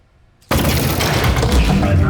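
A turret in the video game Aperture Desk Job opens fire suddenly after a short quiet moment, producing a loud, dense, sustained burst of rapid gunfire that carries on to the end.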